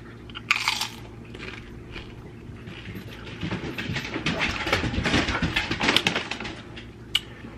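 Someone eats crunchy spicy chips, with loud, close crunches and chewing bites that come in irregular clusters against a quiet room background.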